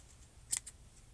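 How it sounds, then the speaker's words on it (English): A single quick snip of scissors cutting crochet yarn, crisp and close, in an otherwise quiet room. "And then I take my scissors and I just cut that off."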